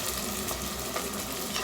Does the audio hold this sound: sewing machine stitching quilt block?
no